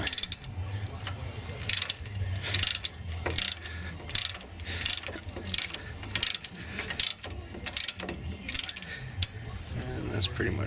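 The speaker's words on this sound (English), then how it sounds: "I'm using a crescent wrench, and just ratchet onto that, keep it from spinning around on you here." A crescent wrench ratchets on a part of a 2007 Dodge Ram 1500 Laramie pickup, producing loud, close, rapid clicking bursts repeated in quick succession with a metallic workshop ring between strokes.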